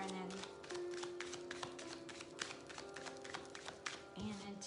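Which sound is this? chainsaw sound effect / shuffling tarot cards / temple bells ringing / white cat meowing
shuffling tarot cards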